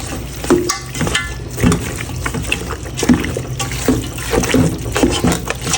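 Meat being stirred in a pan with plenty of oil, salt, cardamom and cinnamon, giving continuous close sizzling and frying with repeated scraping stir strokes throughout.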